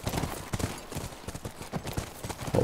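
Horse hooves clip-clop at a steady walking rhythm in The Last of Us Part II near a ranch, moderately close and fairly soft, with faint background sound around them.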